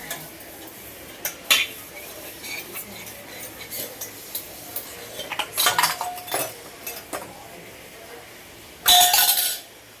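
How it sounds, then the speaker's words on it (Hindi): Metal utensils clink in a home kitchen in sparse, scattered taps and rattles, with a louder burst of clattering near the end and no talking. "ये मेरा बर्तन है"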